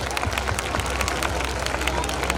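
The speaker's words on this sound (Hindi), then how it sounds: "एक बार जोरदार तालियां विकास के लिए।" Loud, dense applause from a school audience at an annual function honouring a student, with many hands clapping steadily and a murmur of crowd voices underneath.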